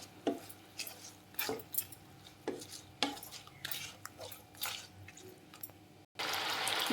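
Jaggery being stirred in a pan for semiya kesari, with regular scraping strokes about once a second, close and moderately loud, ending in a sudden steady hiss.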